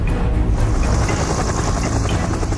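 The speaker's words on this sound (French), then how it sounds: "l'hélicoptère les dépose sur l'île" A helicopter sets people down on an island, its rotor and engine droning loud and close in a steady, rumbling wash that holds for a couple of seconds.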